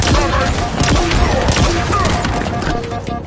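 Rapid gunfire from the player's weapon in the Halo Infinite campaign, loud, dense bursts of shots layered with battle noise and a speaking voice throughout.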